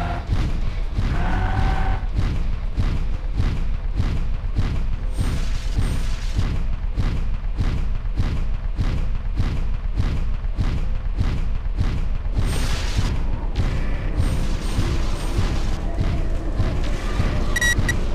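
A rapid series of explosions and booming weapon blasts from the mech combat game MechWarrior 4: Mercenaries, heavy rhythmic impacts repeating densely for the whole stretch, loud and close, with bursts of crackling debris.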